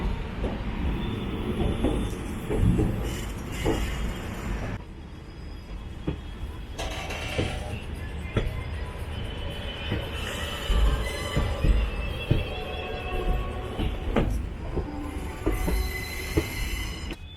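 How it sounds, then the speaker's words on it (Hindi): A train pulling out of Lucknow Junction rumbles steadily as it rolls along, with wheels screeching and clattering over the tracks, loud and close throughout. "ट्रेन अब लखनऊ जंक्शन से निकलती हुई"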